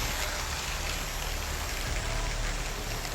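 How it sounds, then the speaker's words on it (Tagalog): Steady rain patters nearby, a continuous hiss of drops falling on surfaces with no voices. "Parang umuulan na mga tol."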